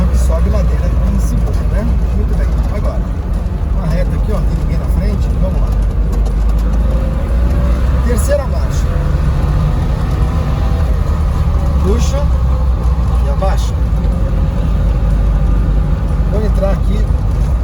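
An old car engine pulls uphill in second gear, a loud continuous droning rumble heard from inside the cabin, with someone talking over it.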